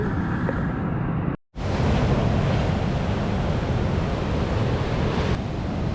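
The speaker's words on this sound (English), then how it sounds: "you can see how vicious the ocean is right now" Rough ocean surf pounds the rocky Northern California coast at high tide, a loud, continuous roar of crashing waves with wind buffeting the microphone and a brief dropout partway through.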